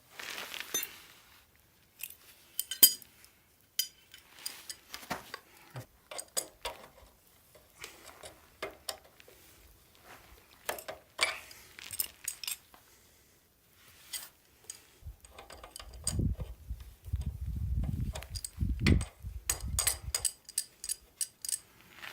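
Spanners and metal parts are handled while changing the drive gear on a postie bike, scattered close clinks, taps and scrapes, then a louder rustling, rumbling stretch near the end, with no talking.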